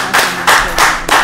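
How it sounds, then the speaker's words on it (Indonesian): Loud, close claps in three rhythmic bursts, sounding like a small group clapping together at a talk-show style event. "Kita beri tepuk tangan dulu dong."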